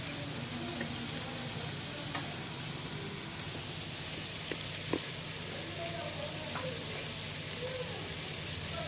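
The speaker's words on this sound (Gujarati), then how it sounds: "ધાણા મરચું હળદર કરી અને મિક્સ કરીએ" Noodles stirred in a pan with coriander, chilli powder and turmeric, a steady sizzle beneath soft scraping stirs and occasional light clicks; close and continuous.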